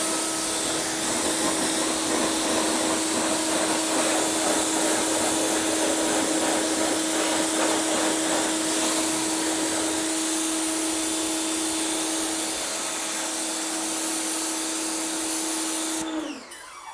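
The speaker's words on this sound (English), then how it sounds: "So now we are going to rinse both wheels" Water rinses both car wheels after an iron remover treatment, making a loud, continuous hissing rush with a steady whine under it. It runs unbroken for most of the time before cutting off near the end.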